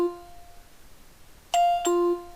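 A FARO Focus laser scanner gives its scan-complete alert: a clean two-tone electronic chime, a higher note then a lower one held briefly, sounding alone against a quiet background.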